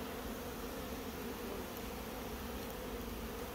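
A steady, dense insect buzzing fills the air without pause, the hum of many honeybees at an apiary at a fair distance, with no voices.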